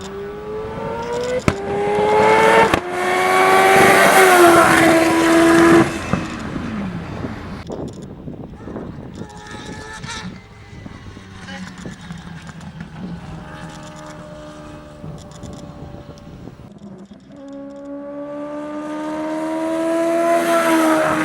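Four-rotor rotary race car at full throttle on a circuit, its high, rasping engine note rising and falling through shifts, breaking up at times, with wind buffeting throughout.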